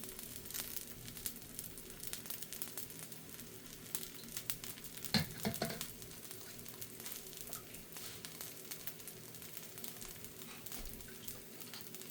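A ragi dosa made with chia seeds cooks on a pan with ghee, producing a faint, even sizzle with light crackles and one louder scraping burst midway, and no one speaking.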